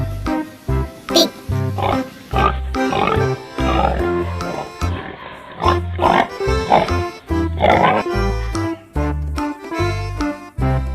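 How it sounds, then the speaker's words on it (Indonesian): A pig oinks and grunts in a run of short, loud, repeated calls with brief gaps between them. "Pig."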